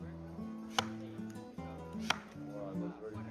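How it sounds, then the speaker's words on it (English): An axe strikes wood twice in a Basque Country wood-chopping contest. The sharp blows land a little over a second apart over steady background voices. "next is wood chopping"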